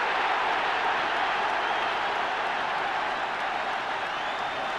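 A football crowd roars steadily as Sunderland's Wayne Entwistle completes a hat-trick, a dense, continuous wash of cheering and applause from a large stadium audience with no break over the whole stretch.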